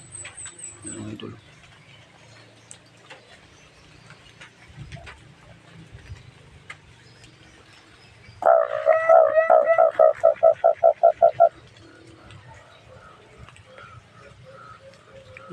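Limokon doves calling behind a house, a loud close burst of rapid repeated coos lasting a few seconds amid faint background sounds and scattered ticks.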